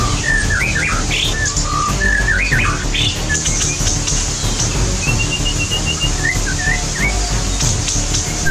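A white-rumped shama sings clear, varied whistled phrases, fairly close, over a steady background hum; no talking.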